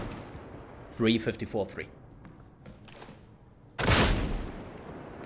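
A combat shotgun fires in Warhammer 40K Darktide, a single loud, broad blast near the end, preceded by a brief burst of other game noise and voice-like tones.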